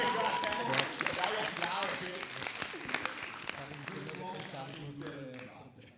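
Audience applause at a school short-film screening and debate, moderate clapping mixed with overlapping voices and chatter in the room, tapering off toward the end.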